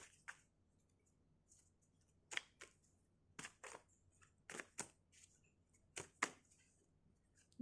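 Tarot cards being shuffled and drawn for an advice reading, heard as a scattered series of sharp, close card snaps and flicks in quick pairs over a quiet room.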